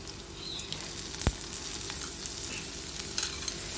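Finely chopped onion frying in a pan, a soft continuous sizzle with a sharp clatter as it is stirred, close and fairly quiet.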